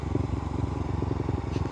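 A motorcycle's engine putters close by with a steady, throbbing low rumble, loud and continuous over a short stretch, with no voices.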